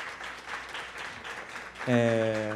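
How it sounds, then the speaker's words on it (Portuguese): Faint audience clapping at the close of a panel talk at a film festival, a soft, diffuse patter of hands for under two seconds before a louder tonal sound cuts in. "Todas as salvas de palmas."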